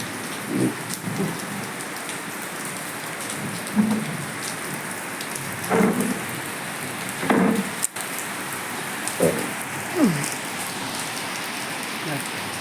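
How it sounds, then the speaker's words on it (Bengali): Steady rain pours down in the background, with a few louder drips and splashes and faint voices or movement now and then. "বৃষ্টি দেওয়াতে একটু গরমটা কমবে"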